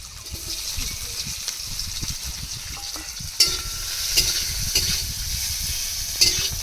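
Crushed garlic and chopped onion frying in oil with cumin seeds, a steady crackling sizzle stirred along with several sharp clanks of a utensil against the pan.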